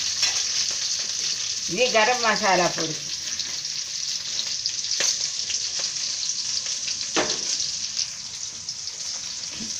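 Onions and green chillies sizzle steadily in a hot pan while gongura rice is cooked. The frying hiss is constant and close throughout, with a few stirring clinks. A voice speaks briefly over it near the start.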